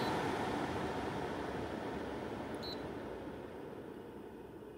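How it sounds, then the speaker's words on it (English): A breeva A3 HEPA air purifier runs its fan on the high setting, a steady broadband whoosh of moving air that eases slightly in loudness toward the end, with a tiny electronic beep partway through. "right now we're on the high fan setting"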